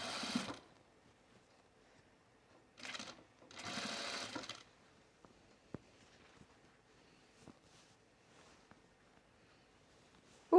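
A sewing machine stitches a pocket onto pajama pants in short bursts of buzzing whir, separated by quiet pauses broken by small clicks and taps of handling.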